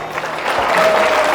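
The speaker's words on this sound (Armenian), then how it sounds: "Այս պահը պետք է Հարսիկի կողմը ծափ տար, բայց Փեսայի կողմն էլ է ծափեր տալի" Wedding guests clapping at a reception, a dense burst of applause that swells and holds steady across the short moment, with a faint steady tone running underneath.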